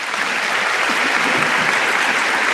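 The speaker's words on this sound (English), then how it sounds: "Will you please give these honorable guests a round of applause?" Dense, steady applause from a large crowd for honored guests at a high school commencement ceremony, loud and continuous throughout with no talking over it.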